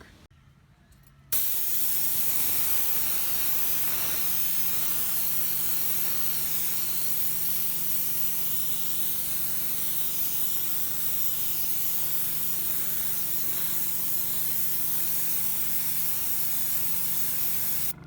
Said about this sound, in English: this colour I'm only spraying the big crystals